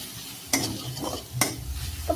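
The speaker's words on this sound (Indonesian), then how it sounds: "tumis bumbu yang kita haluskan tadi, juga daun jeruk, salam, serai, dan lengkuasnya sampai harum baunya" Ground spice paste with lime leaves, bay leaf, lemongrass and galangal frying in a pan gives a low, steady sizzle, broken by two sharp stirring scrapes and a soft clink near the end.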